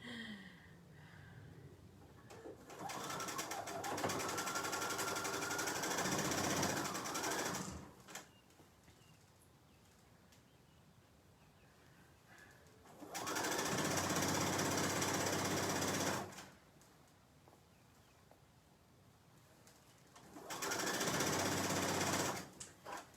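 A sewing machine runs in three steady bursts while stitching a seam on pajama pants, with quiet pauses between each run and no talking.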